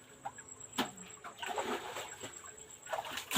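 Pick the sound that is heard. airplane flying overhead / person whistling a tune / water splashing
water splashing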